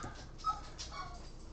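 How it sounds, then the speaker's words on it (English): Small dogs at home whimper and yip happily, a few faint high squeaky whines in quick short bursts over quiet room noise. "Oh, the little dogs are getting happy."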